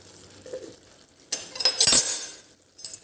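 Green onion sabzi gets stirred in a pan with red chili powder, coriander-cumin powder and salt, giving a quiet scrape, then a burst of sizzling and clinking metal as the mix is turned over.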